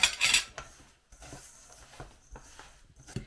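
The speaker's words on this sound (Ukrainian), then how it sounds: "Спочатку замішую ложкою." A spoon works honey-ginger cookie dough in a bowl, giving soft scraping and dull knocks at an irregular pace, fairly quiet and close, with a brighter clink at the very start.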